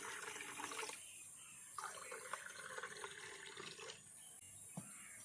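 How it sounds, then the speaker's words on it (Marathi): Cold water pours into two glasses holding ice cubes and raw mango panha, a faint steady trickle with brief pauses and no voices. "आणि त्यात थंडगार पाणी घालूया"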